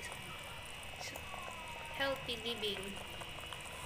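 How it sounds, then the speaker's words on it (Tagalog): A pot of sardine and misua soup at a rolling boil, its soft bubbling and patter sitting low beneath a person speaking close by. "Kumukulo na siya."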